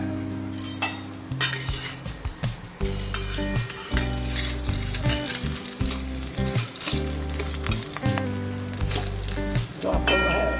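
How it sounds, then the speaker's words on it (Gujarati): Handvo, a savory batter cake, sizzling and frying steadily in a pan after being flipped, with a loud continuous crackle and occasional scraping stir sounds, close up. "આપણો હાંડવો એક સાઈડથી ચડી ગયો છે તો હવે આપણે એને ફેરવી લઈશું।"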